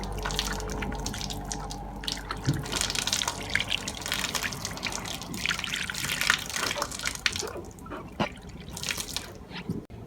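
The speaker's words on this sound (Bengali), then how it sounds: "জল দিয়ে ভালো করে ধুয়ে নেব" Tap water splashes and drips steadily while something blackened with dirt is rinsed under a faucet, a close, continuous spattering wash with no voices.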